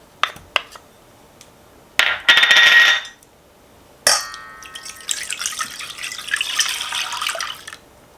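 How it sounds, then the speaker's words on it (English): Butter and milk go into a saucepan with a few clinking taps, then two bursts of pouring liquid, followed by a softer, sustained bubbling sizzle as the pan heats. "I'm adding the butter and the milk to a saucepan."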